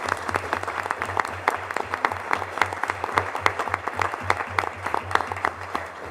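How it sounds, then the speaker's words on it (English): Applause at a school board of education meeting honoring coaches and administrators: a modest group clapping with distinct, rhythmic individual claps, close and fairly loud, sustained for about six seconds. "so give those guys a round of applause"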